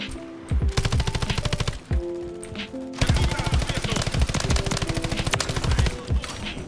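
Rapid machine gun fire in the video game Modern Warfare 3, two long bursts of fast rhythmic shots separated by a brief pause, loud and close.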